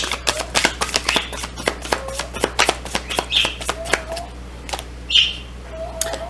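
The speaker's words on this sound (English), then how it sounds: "the birds are chirping this morning, if you can hear them" Birds chirp in short calls at intervals, fairly faint behind a loud run of rapid card-like flicks and taps close by.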